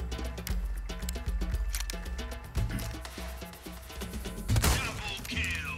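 Rapid gunfire from the video game Resident Evil 4 Remake, dense overlapping shots and bursts rattling over a steady bed of game music and effects, loudest near the end.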